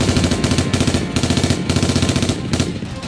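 AK-47 rifles and launchers fire during a forest operation, sounding as loud, close bursts of rapid automatic gunfire in repeated rhythmic volleys with brief gaps between them.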